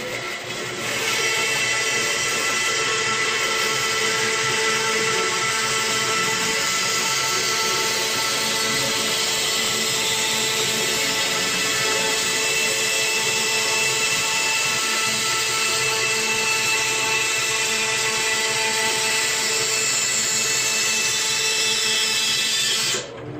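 A drill bores holes in wooden neck-thru guitar blanks, giving a loud, steady, high-pitched whine that runs without a break from start to finish.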